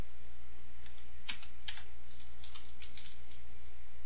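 Steady keystrokes clatter on a computer keyboard, close and continuous with a few louder taps, over a constant electronic hum and high-pitched whine, with no talking.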